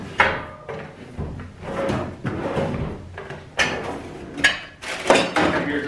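Drawer of a Vulcan welding cart from Harbor Freight sliding open with metallic clunks and rattles, a series of fairly close, loud bumps and scrapes spread across several seconds, with no talking.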